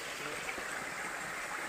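Stream water flowing through a jungle, a continuous bright rushing and gurgling, close and steady throughout the short stretch with no speech over it.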